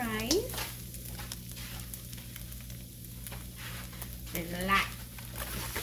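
A steady sizzle in a frying pan as rice goes in for fried rice, with soft scraping and patter underneath and a voice speaking over it.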